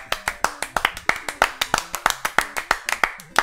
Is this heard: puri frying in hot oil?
no